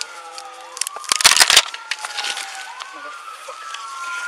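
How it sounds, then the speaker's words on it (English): An ambulance siren wails from the distance as it passes through a city street, its rising and falling tone running under a loud burst of crackling noise and faint voices. "Ambulance coming through right now."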